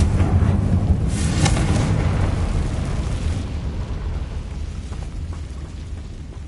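Confringo explosive spell in Hogwarts Legacy, a loud booming blast with a crackling burst early on, then a long rumbling tail that slowly fades, no talk.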